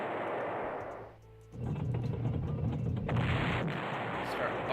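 Artillery bombardment in the Panzer General war game, a dense continuous rumble of explosions that drops out briefly and then resumes loud and sustained.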